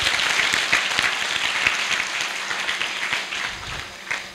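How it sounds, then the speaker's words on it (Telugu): Audience applause in a Telugu meditation and knowledge class, a steady, dense wash of clapping from a seated group, fairly close and continuous for several seconds with a few louder individual claps standing out. "ఒకసారి ఆయన క్లాప్ చేద్దాం."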